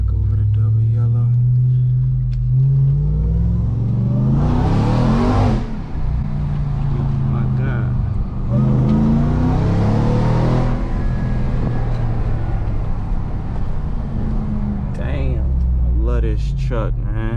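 A Ram TRX pickup truck in Baja mode rumbles off-road, its engine revving up twice in strong surges over a deep constant idle, close and loud with people talking over it.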